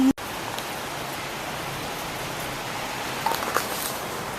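Steady rain falls outdoors on a day in California, a constant broadband hiss of drops with a couple of brief louder patter spots near the end, no voices.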